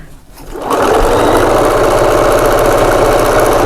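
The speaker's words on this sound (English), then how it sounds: "So we're nearly completing this seam now." A sewing machine stitches a seam on a quilted table runner or bed throw, starting up quickly into a loud, continuous, even whirring buzz close by with no speech.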